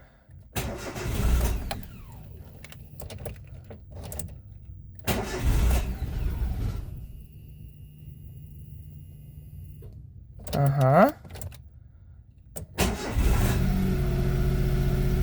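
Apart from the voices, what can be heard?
Daewoo Matiz engine starting after repair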